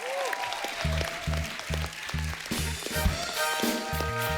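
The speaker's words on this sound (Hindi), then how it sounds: "आपकी जोरदार तालियां होनी चाहिए ताशी और नुंशी" On the set of a Hindi TV comedy show, the studio audience applauds while a heavy rhythmic drumbeat pounds along with backing music, the clapping a busy layer under the beat.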